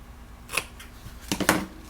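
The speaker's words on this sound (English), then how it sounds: "if your ribbon is a little long, you can cut the tail end off of it if you want" A few quiet snips of scissors cutting off the tail end of a ribbon at an angle, two short clusters of crisp clicks against a faint room background.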